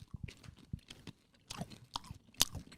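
Sour Skittles candy is chewed close to the microphone, with quiet irregular crunches and wet, sticky smacking bites scattered through a few seconds.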